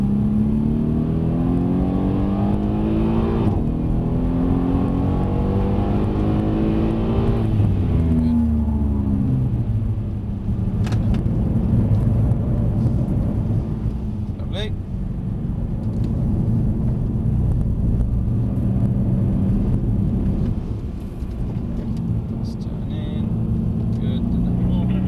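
A Mercedes-Benz C63 S driven hard on a track, its engine loud and continuous with rising and falling revs as it accelerates and shifts, heard from inside the car while people talk over it.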